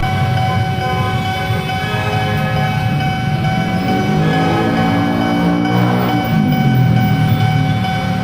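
Two trains roll through a railway level crossing in Indonesia, a loud continuous rumble carrying sustained horn-like tones that swell toward the end, with no voices.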